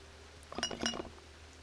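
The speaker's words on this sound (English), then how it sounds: "When I shake it, it rattles." A small green glass vial being shaken in the game Strange Antiquities, giving a brief cluster of bright, light clinks and rattles, close and clear, with no talking.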